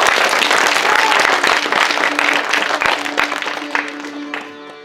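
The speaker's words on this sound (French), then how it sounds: "applaudir Arthur" Loud, close audience applause for Arthur, dense clapping with cheers that gradually thins and fades over a few seconds, with a sustained tone and voices in the background.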